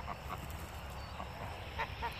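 Geese honking in short, faint calls spread across a couple of seconds, heard under steady traffic noise in the background.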